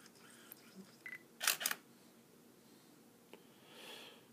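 A camera shutter fires via a Setachi Bluetooth smart trigger: a sharp double mechanical click near the middle, with softer clicks and handling noise before and after in a quiet room.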